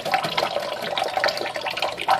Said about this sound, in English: Keep the water running lightly.